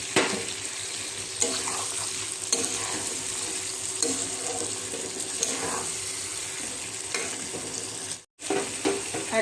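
Poppy seed paste and green chili paste hitting hot oil in a pan, a steady close sizzle with occasional stirring scrapes and a short silent gap near the end.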